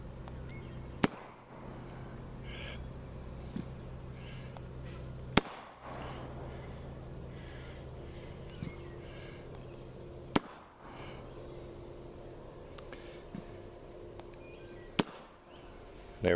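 Four-shot electronic bumper launcher for dog training, set off remotely, firing bumpers one after another: four sharp pops spaced a few seconds apart over a steady outdoor background hum.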